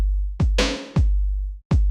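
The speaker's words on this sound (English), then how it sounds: "I waited 4 bars and then layered it with this 90s beat, which sounds like this on its own." A 90s hip-hop drum beat hits hard with a booming 808 kick carrying bass and a snappy snare, a few loud, evenly spaced thumps with long low decays, playing alone.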